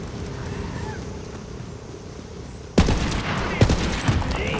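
Borderlands 3 gunfire opens abruptly after a quiet stretch and rattles as loud, rapid bursts with several sharper cracks standing out.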